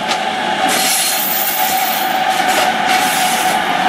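A DB class 185 electric locomotive hauls a mixed freight train through the Aachen West marshalling yard, making a loud, steady roar of rolling wagons with a persistent metallic whine and faint rhythmic wheel clatter close by.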